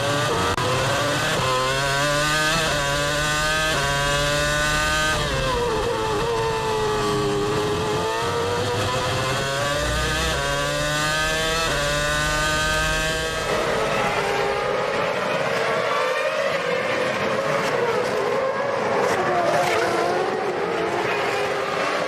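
Formula 1 cars racing at the 2006 Canadian Grand Prix in Montreal, with loud high-revving engines whose pitch climbs through repeated gear changes, then a rougher wash of several cars passing, continuous and without talk.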